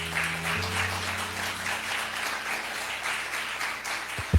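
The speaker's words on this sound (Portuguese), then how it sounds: "Aplauda o Senhor Jesus." A church congregation applauds during a Portuguese-language sermon, a broad sustained wash of clapping over a low steady hum, with a sharp thump near the end.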